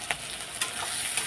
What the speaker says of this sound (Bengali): লতিটা একদম ভাজা ভাজা করবো।